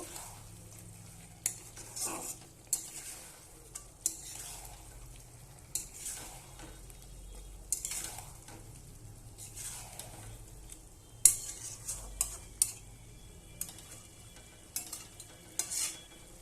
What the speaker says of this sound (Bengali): ফুটে গেছে, নেড়ে দেব